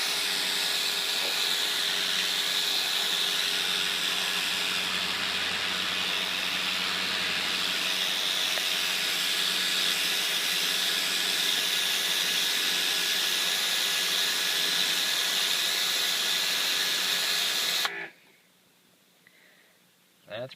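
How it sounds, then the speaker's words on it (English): A Karcher 330 electric pressure washer rated at 1500 psi sprays through a turbo nozzle, giving a loud, steady, close hiss that holds for about eighteen seconds before cutting off abruptly into near quiet. "That's pretty decent for a little 1500 psi pressure washer."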